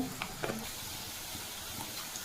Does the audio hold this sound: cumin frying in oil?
yes